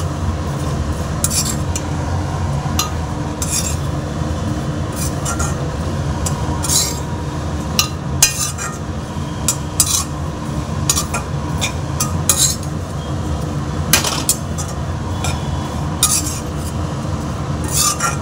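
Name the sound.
stirring grated coconut roasting in a pan on low gas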